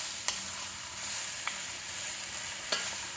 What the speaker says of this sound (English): I want to stir this around for about 5 minutes